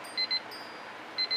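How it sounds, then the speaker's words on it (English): Timer alarm beeping in short high-pitched pairs, faint against steady room noise, with the double beep repeating after a pause. "That's the timer."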